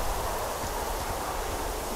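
Steady wind blowing through the outdoor wilderness of the video game Firewatch, a continuous broad rushing hiss with no clear gusts, even and moderately loud throughout with no talk.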